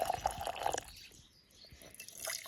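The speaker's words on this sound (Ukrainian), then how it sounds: "Наливаємо гарячу або теплої водички." Warm water trickles and splashes into a jar in short bursts, a brief quiet pause between pours, fairly close.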